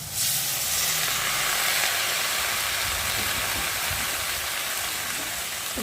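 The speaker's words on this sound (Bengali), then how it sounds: "এখন আমি এই যে কেটে রাখা কচুর ফুলগুলো দিয়ে ভালো করে একটু কষিয়ে নেব" Chopped taro flowers hit hot spiced oil in a pan, giving a loud, steady sizzle and hiss that holds evenly for several seconds with no voices.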